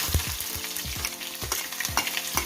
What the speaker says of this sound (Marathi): सालासकट शेंगदाणे जे आहेत ते तळून घ्यायच्यात आणि पटकन तळल्या जातात